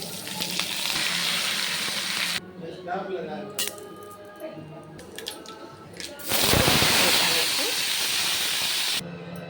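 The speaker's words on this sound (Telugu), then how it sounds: "ఇది సాంబార్ ఉడుకుతా ఉంది" A pot of sambar with pumpkin boils vigorously, giving loud bursts of hissing, steamy bubbling with quieter stretches of softer bubbling and pops between them.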